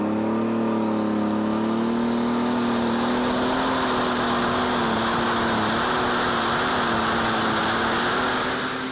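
A roaring superstock tractor engine, the Agrifac Interaction, runs at full power down the track at the 2014 Eurocup tractor pulling in Brande, Denmark. It makes a loud, continuous howl with a slightly wavering pitch.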